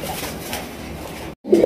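A large male pigeon coos in low, soft repeated calls, close by, ending with a brief pause and a louder coo.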